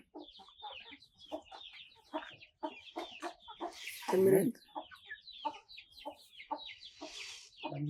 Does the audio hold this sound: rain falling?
no